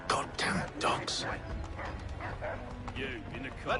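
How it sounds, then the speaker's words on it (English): Dogs barking in the Assassin's Creed video game, sharp yips and barks scattered among shouting voices and battle noise, with people talking loudly over much of it. "Goddamn dogs."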